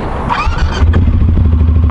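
A BMW F850GS motorcycle engine starts, a brief mechanical churn giving way to a close, deep, pulsing idle rumble.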